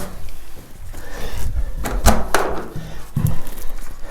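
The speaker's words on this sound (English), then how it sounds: "So what that means is that I can shut the door" A door is pushed shut over a cable running through a crack at the bottom of the frame, with a few soft bumps and one sharp thud in the middle, ending in a duller knock.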